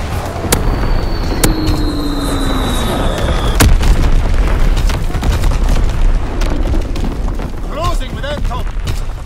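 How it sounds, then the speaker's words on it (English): Six bombs fall in a video game air strike, with heavy booming blasts rumbling continuously, loud and close, while whistling tones sweep down and a rapid crackle builds near the end. "Dropping complete six bombs."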